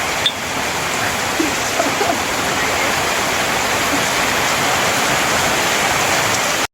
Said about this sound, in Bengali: সেই বৃষ্টি হচ্ছে অনেকদিন পর নিচে বৃষ্টি দেখা যাবে